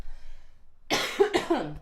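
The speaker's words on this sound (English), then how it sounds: "I have to cough" A couple of sharp, close coughs following a short quiet pause, with a faint breathy sound trailing after.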